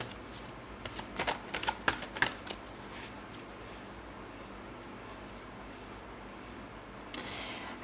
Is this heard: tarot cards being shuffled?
yes